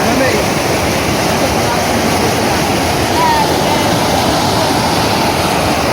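Water running steadily through an irrigation channel in a field after rain, a continuous close rushing wash that holds level throughout with no breaks.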